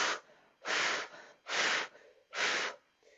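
Open-mouthed panting demonstrated in a breathing exercise class: four fast, shallow breaths in an even rhythm, each a loud breathy burst close to the listener, with quieter breath between, no talking.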